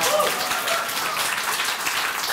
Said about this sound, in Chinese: 还要不要掌声一下？